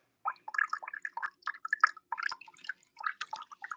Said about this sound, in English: you can see how it's dripping out here